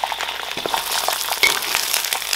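Pork bones are dropped into a pot of sugar caramelized with rock sugar until reddish-brown and bubbling, setting off a loud, dense sizzle with sharp crackles heard close up, with no talk.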